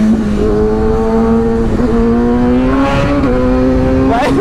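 A Kawasaki H2 motorcycle rides hard and accelerates, its loud engine droning steadily with rising pitch as it pulls through the gears, close and continuous with wind noise.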